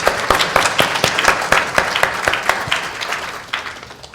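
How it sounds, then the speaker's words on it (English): A room of audience members claps for a panel after a biodiversity discussion, many distinct close hand claps forming steady applause that gradually thins out toward the end. "Please give me a round of applause for our panel"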